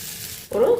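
A brief hot sizzle bursts up as grated ginger, green chili and cumin hit oil in a pan, starting quietly then flaring loud and close for a moment.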